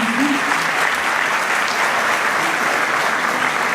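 An audience at a season-opening gala night of the Pendik Public Education Centre gives sustained, even applause in memory of someone, with full, continuous clapping from start to finish.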